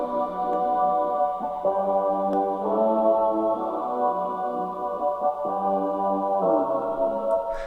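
Muffled lo-fi brass sample layer run through the Drowned plugin, a soft sustained chord progression of dull, washed-out horn tones shifting every second or so, played alone without talk.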